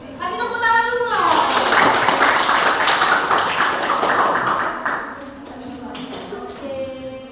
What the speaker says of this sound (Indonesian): Kasih tepuk tangan dulu loh